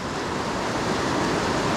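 Fast, tumbling water of the Ausable River rushes in a steady, broadband roar, close and continuous with no pauses and no voices.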